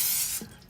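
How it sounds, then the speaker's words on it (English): Olive oil non-stick spray hisses from an aerosol can onto a baking pan in one short, bright burst that cuts off abruptly. "your pan with a olive oil or some other non-stick spray that you prefer."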